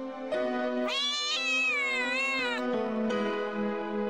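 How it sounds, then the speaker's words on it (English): A kitten meows repeatedly at close range, with drawn-out, wavering cries that rise and fall across several seconds, loud and clear with no talking over it. "the kitten go back and forth meowing at each other"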